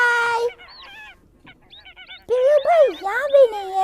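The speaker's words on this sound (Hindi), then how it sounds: "ये कितनी प्यारी बत्तख है" A duck gives loud honking quacks, a harsh call at the start, then a run of smaller nasal cries and a burst of several loud squawks close by, with voices around it.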